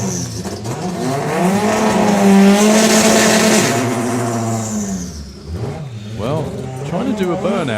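A drag race car engine at a doorslammer drag racing event, revving hard and climbing in pitch, then bogging and falling away without pulling RPM, with people talking nearby.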